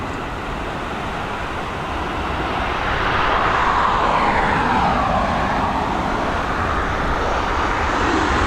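An airliner on approach to land at Dublin Airport in high winds, its engines roaring loudly and growing nearer, with gusty wind noise underneath and no voices.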